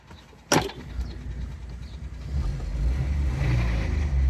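A car fitted with a freshly changed LPG kit, one that had been slow to start, pulls away on a test drive. The engine rumble builds steadily after a sharp knock near the start and carries on without talk.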